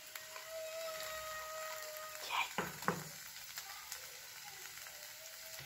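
Crushed garlic dropped into frying onions, a faint steady sizzle with a brief burst of crackling and a soft stir as it hits the pan.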